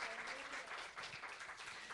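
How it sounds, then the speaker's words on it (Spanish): A church congregation claps in a brief, dense, faint patter with no distinct voices on top. "Dale un aplauso a Cristo"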